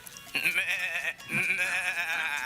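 A person's voice imitates a goat's bleat with two wavering, nasal cries, the second one longer, loud and close.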